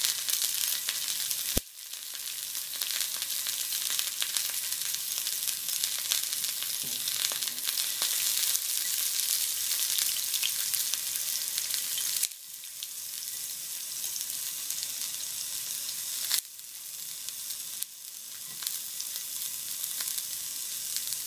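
Sliced garlic fries in a pan with a steady, bright sizzle that runs throughout, broken by a few brief clicks and shifts as the pan is moved, with no talking.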